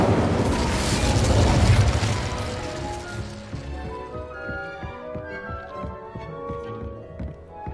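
An Incendio fire spell cast in Hogwarts Legacy: a loud fiery burst with a roaring blast, fading into a crackling, clinking tail.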